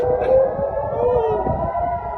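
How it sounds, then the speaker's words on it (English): A wailing air raid siren rises and falls steadily in the distance during a rocket attack, with faint background noise and no talking. "You can hear the air raid sirens."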